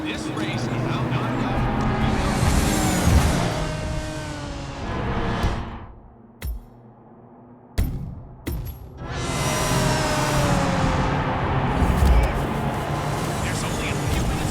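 Race cars in Hitman 2 roar past in two long, loud engine surges with rising pitch, separated by a brief near-silent gap broken by a few sharp clicks, while a commentator talks over it.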